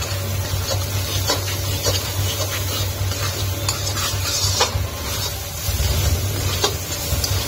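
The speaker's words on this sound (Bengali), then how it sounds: "চিনিটা দিয়ে ভালো করে নেড়ে নিচ্ছি।" Egg and prawn fried rice with sugar is stirred in a pan over steady frying sizzle, a spatula scraping and clinking against the metal in an irregular rhythm, close and alone.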